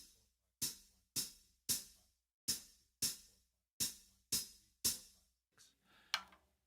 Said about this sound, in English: that clave would be like this